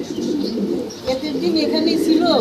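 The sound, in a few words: pigeons cooing at a pigeon farm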